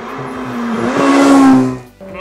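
Ferrari F8 Spider engine heard from inside the cabin, a loud rising rev as it accelerates, peaking then easing off briefly before picking up again.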